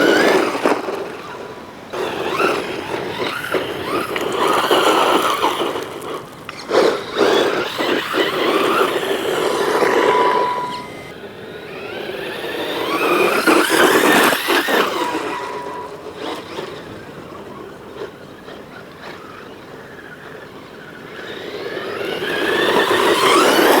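A WLtoys 104019 brushless RC monster truck drives around, its electric motor whirring and swelling in waves as it speeds up and slows, with rough rumbling from the surface and no talking.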